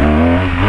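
A motorcycle engine drones loudly and close, with a steady humming tone and a slight dip near the end of the short burst.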